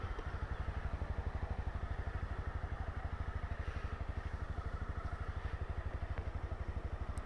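A Harley-Davidson motorcycle runs close by with a steady, loud low-pitched engine throb, its rapid even firing pulses continuing without a break and nobody talking over it.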